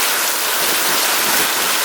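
Heavy rain pours down steadily during Tropical Storm Imelda in Houston, with a flooded parking lot nearby: a dense, continuous hiss of rainfall and running water, loud and close, with no voices.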